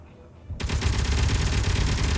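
A turret in Space Engineers opens up suddenly after a quiet moment and keeps firing in a loud, sustained rapid burst.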